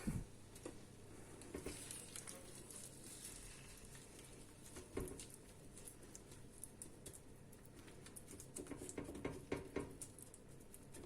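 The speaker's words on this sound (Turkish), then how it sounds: "patlıcanlarımı biraz ısıtacağım ve kavurmuş olacağım" Eggplant pieces sautéing in oil in a pan for a keto Ali Nazik kebab, with a faint continuous sizzle and light patter plus scattered clicks from stirring, no voices.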